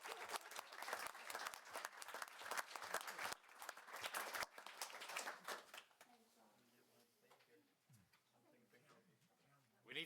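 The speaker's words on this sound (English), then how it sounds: "Let's give him a round of applause" A roomful of people at a school board meeting applauds loudly for about six seconds, the dense clapping then dying away into quiet room tone with a few voices talking.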